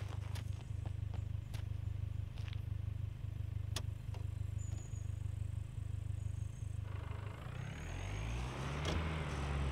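Car driving off-road in the survival game SCUM, a steady low engine drone with rhythmic bumps and rattles, rising into a revving whine near the end, with no talk.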